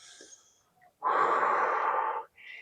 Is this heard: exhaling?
yes